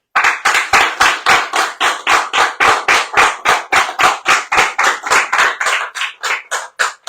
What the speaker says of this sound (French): si vous avez simplement la gentillesse de bien vouloir applaudir le bureau d'achat collectif